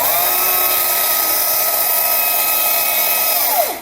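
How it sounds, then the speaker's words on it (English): A chainsaw cuts a relief cut into scrap wood for carving, a steady loud high-pitched engine whine held without a break for several seconds, then dropping off sharply as the cut ends. "So I can see where the tip of the chainsaw punches through on that line."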